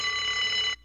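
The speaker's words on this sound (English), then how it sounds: "Alarm should go off soon." An electronic alarm rings in the video game Unheard, a steady bright tone that holds for under a second and then cuts off abruptly, loud and alone.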